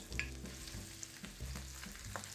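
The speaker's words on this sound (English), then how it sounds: "We're gonna let these sear for a little bit on each side." Lamb sears meat side down in a pan of olive oil, a soft continuous sizzle with low hum and a couple of light thumps, faint and steady with no talking.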